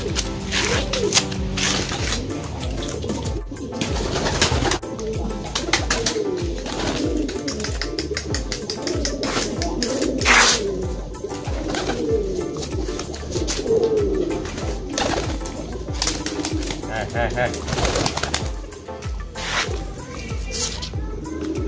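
Losdor racing pigeons coo repeatedly at close range while being warmed up in a loft, their soft throaty calls continuous over light mechanical rattling and occasional wing flutters.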